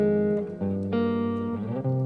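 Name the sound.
guitar melody from an Afrobeat guitar sample pack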